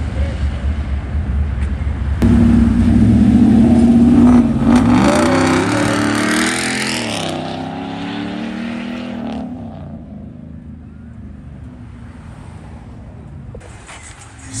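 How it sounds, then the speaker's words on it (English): A Pontiac Trans Am leaving a classic car meet roars loudly as its engine revs and climbs in pitch under hard acceleration, then the sound fades as it pulls away into the distance. "Got a Trans Am. Giving it the gas on C."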